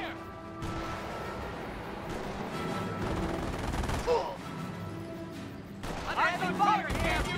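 Gunfire from the video game Company of Heroes gives scattered shots and bursts, with a denser rattling volley near the end, heard through game voices and battle noise.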